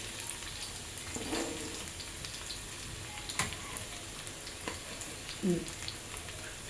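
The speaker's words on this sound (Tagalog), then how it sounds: "So, ilalagay natin yung ating bawang." Garlic frying in cooking oil in a pan for a sautéed string bean, bitter melon and mung bean dish, giving a steady faint sizzle with a few louder spatters and stirring clinks.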